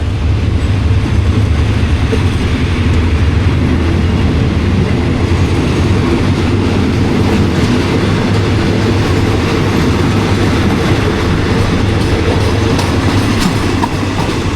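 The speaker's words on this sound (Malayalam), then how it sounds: "ട്രെയിൻ വന്നു നിർത്തി ദാന്നും പറഞ്ഞ് ട്രെയിൻ പോയി കേട്ടോ" A local train in a Thai village rumbles and clatters past, loud and continuous, with steady rhythmic wheel noise throughout and no voices.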